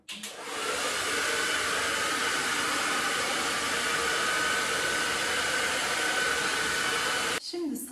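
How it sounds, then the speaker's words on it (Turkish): Handheld hair dryer blowing steadily and loudly at close range while long hair is brushed straight from top to bottom, a continuous broadband whoosh lasting several seconds before cutting off near the end. "saçımı kuruturken yukarıdan aşağı fön makinesini tutarak tarakla tarayarak kurutuyorum"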